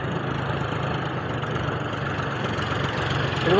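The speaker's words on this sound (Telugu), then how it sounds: "మా ట్రాక్టర్ లోడ్ వచ్చేసింది" A loaded farm tractor idles steadily nearby, a continuous low engine rumble that holds level throughout and swells slightly at the end.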